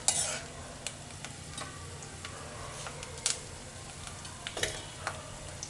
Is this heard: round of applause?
no